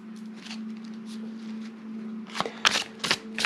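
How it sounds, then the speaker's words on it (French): An oracle card deck shuffled by hand, soft papery rustling that grows into several quick, crisp riffles near the end, close up over a low steady hum. "je bats les cartes"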